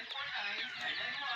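Gold gamefowl chickens cluck and murmur nearby in a continuous low chatter, with someone talking over them throughout.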